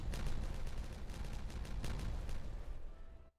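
A dense volley of explosive charges detonating one after another in the video game Timberborn, a rapid crackling burst of blasts that runs for a few seconds before cutting off, loud with no voices over it.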